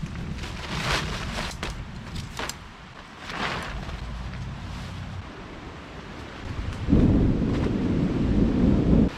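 A stormy outdoor roar of wind and rain at a campsite, with rumbling thunder building and a heavy gusting surge near the end.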